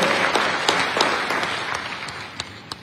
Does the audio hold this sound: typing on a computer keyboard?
no